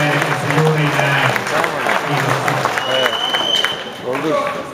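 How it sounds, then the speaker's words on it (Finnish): An audience applauds a wrestling bout between Toufan Ahmadi of Finland and Billel Benbrih of Algeria. The clapping is a dense, steady wash throughout, and someone talks over it the whole time. "Annetaan kaikki painille aplodin tässä näin"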